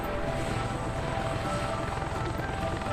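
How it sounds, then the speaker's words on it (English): A video game helicopter's rotor chops steadily under a continuous engine drone, loud and close throughout with no talking. "so you can hear my helicopter"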